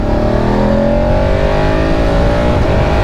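A 2023 BMW F850 GS Adventure motorcycle pulls hard in third gear around 4,000 rpm in dynamic mode, its engine note rising steadily and loud throughout, close up with no talking.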